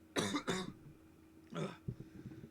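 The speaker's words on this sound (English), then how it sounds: "I just had one of those coughs that came up in the worst way possible" Two quick harsh coughs close to the mic, a short pause, then another cough followed by a throaty clearing and breathy sounds.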